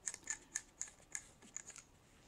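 A Rob Allen biopsy dart tip being unscrewed, giving a string of small, faint, close metallic ticks and clicks in quick, uneven succession.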